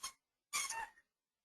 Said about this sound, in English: that's our dog's squeaking a toy in there behind me